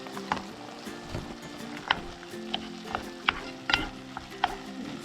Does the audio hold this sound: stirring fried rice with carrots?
yes